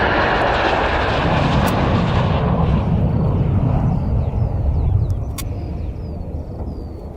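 An aircraft flies close by an airfield, producing a loud, broad roaring engine rush that holds steady and then eases slightly as it passes. No voices are heard.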